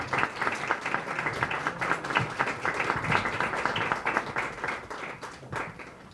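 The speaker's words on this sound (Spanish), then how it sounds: "Al licenciado Andrés, un fuerte aplauso por favor, al vocal ejecutivo." Audience applause at a youth-vote institute ceremony, steady clapping from a room full of people sustained for several seconds with no one speaking over it.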